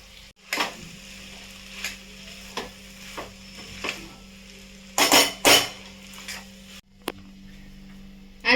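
Cooked khichdi is added to a pot and stirred, giving a few separate metallic scrapes and clinks of a spoon against the pot over a steady low hum, with two louder clattering bursts near the middle.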